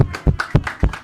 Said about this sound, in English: Give a hand clap to the Passover.